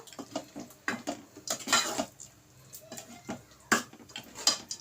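Leftover gongura chicken curry is scooped from a pot into a bowl. A ladle or spoon scrapes and clinks against the metal in a string of irregular taps and knocks, close and fairly faint, with no voices.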